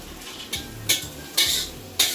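Noodles with green chillies stirred in a pan for Rayalaseema-style noodles, a utensil scraping the pan in four distinct strokes over a faint steady sizzle, close and clear with no talk.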